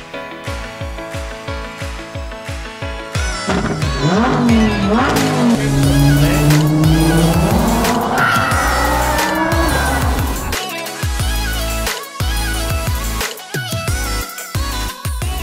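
A supercar driven hard, with engine revs rising and falling through gear changes, a long sustained high-revving pull in the middle, then sharp throttle blips near the end, loud and close.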